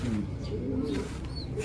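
Small bird cooing softly in low, dove-like calls close by, with a brief higher chirp near the end, partly under a man's speech.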